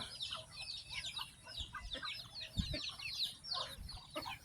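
Domestic ducks at feeding time in the afternoon, with a dense stream of quacks and chatter from a flock close by, layered over a few low thumps, no talking.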